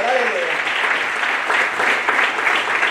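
A church congregation applauds, a dense, steady wash of clapping that fills the space, with a voice briefly audible at the start under the applause.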